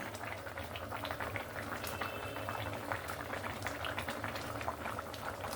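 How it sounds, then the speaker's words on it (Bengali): Thin Bengali fish curry broth coming to a boil in a pot, a steady close bubbling and popping that continues evenly throughout. "এখানে দেখুন আমার ঝোলটাতে ফুট চলে এসছে"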